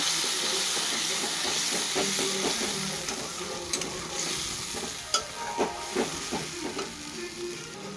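A paste of ginger, garlic, onion, cumin and green chilli fries in a pan, a continuous close sizzle and hiss, with scattered stirring clicks and scrapes in the second half.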